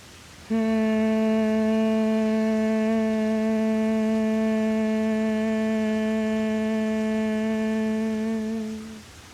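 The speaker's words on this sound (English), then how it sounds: "And exhale, we hum." A single sustained hum on an exhale during a humming-breath practice holds one steady pitch for roughly nine seconds. It is close and full, with no talking, and fades gently at the end.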